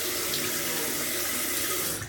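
A tap runs steadily into a sink, a close, continuous broadband rush of water that tapers slightly at the very end, with no voices.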